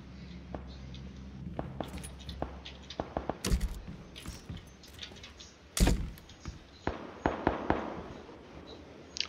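Gunshots ring out in a battle royale video game, a scatter of sharp, muffled cracks and thuds at irregular intervals, some clustered in quick bursts, with a couple of heavier booms that sound distant.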